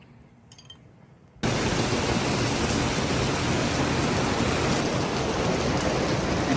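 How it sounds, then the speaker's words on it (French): Heavy rain bursts in suddenly after a quiet moment with a faint voice, then pours down steadily as a dense, loud hiss of drops on surfaces. "Il pleut."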